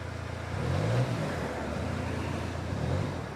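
The 1.5 HDi diesel engine of a 2020 Peugeot Partner revs in two short bursts over a steady idle, the first swelling louder, the second smaller, heard at moderate distance.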